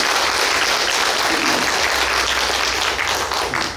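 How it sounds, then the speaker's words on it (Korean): Church congregation applauding during a Sunday service after the choir sings, dense sustained clapping from a crowd filling the room throughout, with no voices over it. "한번 박수 좀 부탁드립니다."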